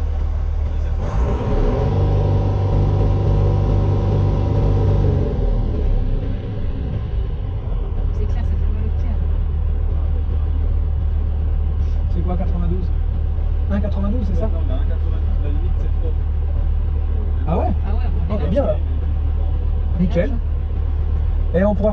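Heavy truck engine at a roadside emissions test, a loud deep rumble that rises as it revs over the first few seconds, then settles to a steady low drone while people talk over it.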